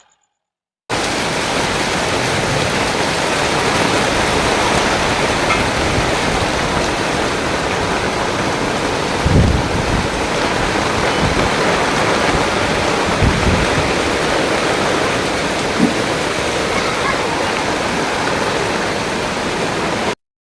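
A heavy wind and rain storm roars as a dense, steady wash of noise, loud and unbroken for about twenty seconds, with a few low thumps and no speech.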